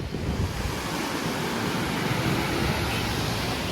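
Steady roaring rush of Erachilpara waterfall in Kanthalloor, a dense, continuous wash of falling water with no voices, loud and close throughout.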